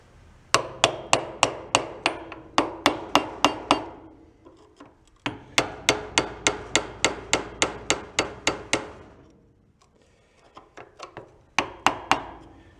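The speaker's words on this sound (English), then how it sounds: "I think I support it in the middle and tap these off of here" A hammer strikes a socket in fast, sharp metallic taps, grouped into three bursts of about a dozen blows each, close and loud, trying to drive parts off a Suzuki ATV.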